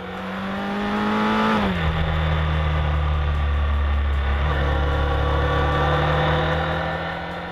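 A 1972 Honda CB 750 K2 four-cylinder motorcycle revs smoothly toward the red line through its four exhausts, then shifts and settles into a steady, loud drone close by, with no talk.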